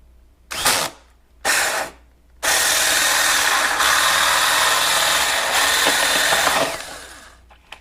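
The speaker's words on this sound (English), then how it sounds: "Just want to let the hole saw do the work. Don't want to push and stretch out the vinyl." A 2-inch hole saw cuts through car vinyl with two short whirring bursts, then one sustained grinding cut lasting several seconds before it winds down, with no talking.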